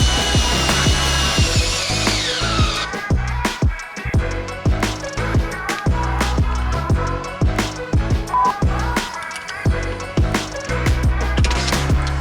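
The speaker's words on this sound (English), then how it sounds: "I've got a socket in my drill bit, and let's get them mounted." Power drill fitted with a socket driving fasteners to mount mud flaps on a vehicle, in repeated short bursts of whirring and clicking with sharp knocks and clatter between them, close and loud.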